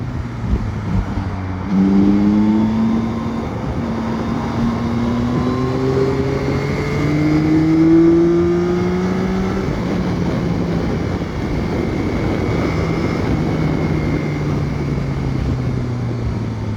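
A 2021 Yamaha Tracer 9 GT motorcycle accelerating hard, its engine note climbing steadily through the gears in a continuous, fairly loud roar with wind rush, and no talking.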